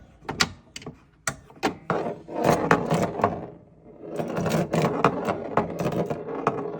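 A Bally Midway Granny and the Gators pinball machine with a modified slingshot, fitted on a 2.5 inch mount with small screws, fires repeatedly: sharp close snaps and clacks in quick uneven bursts over a mechanical rattle, with no voices.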